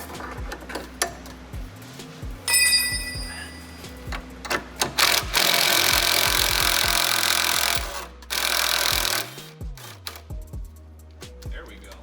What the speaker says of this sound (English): So just put a open box wrench on the back and loosen the front.